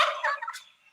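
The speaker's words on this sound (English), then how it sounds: "Oh, turkeys are taking over." A turkey gobbles once in a quick, rattling burst, fairly close and clear, with nothing else behind it.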